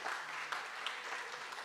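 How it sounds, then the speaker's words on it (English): Audience applause at an awards ceremony: a soft, steady patter of clapping from a crowd, heard faintly and evenly throughout without pauses. "Let's give Cellmates a round of applause."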